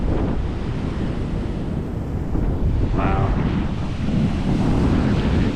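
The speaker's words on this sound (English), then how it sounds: "That's the Pacific Ocean." Pacific Ocean surf rolling onto a beach with heavy wind buffeting the microphone, a constant loud roar, and a man's brief exclamation partway through.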